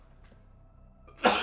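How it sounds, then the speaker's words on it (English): One sudden explosive sneeze from a man bursts out near the end after a quiet stretch of faint room hum. "I'm gonna sneeze."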